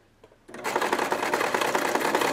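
Sewing machine stitching the seams of a Waldorf doll's body, starting after a short quiet moment and then running in a fast, steady needle rhythm up close.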